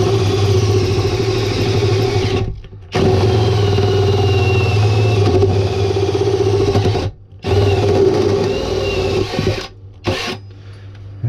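A power tool cuts through the metal floor of a VW Crafter or Sprinter camper van with a loud, steady grinding drone, stopping briefly three times before starting again, close up and with no talking.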